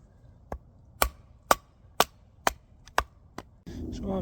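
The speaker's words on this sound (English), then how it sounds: "I've cut up a load more wood for tonight" Firewood being chopped at a winter survival camp: eight sharp, evenly spaced axe strikes about half a second apart, fairly close, followed by a rustle of handling the wood.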